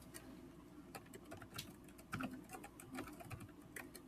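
Rapid clicking keystrokes on a computer keyboard as a password is entered, a steady close patter of soft taps.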